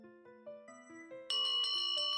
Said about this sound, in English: And there was a ringing again.